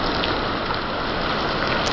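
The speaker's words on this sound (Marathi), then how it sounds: "खरं काय आता पाऊस उघडायचं नाव घेत नाहीये" Steady, dense rainfall pattering heavily on surfaces during a days-long downpour, a loud, continuous close-up hiss with no voices.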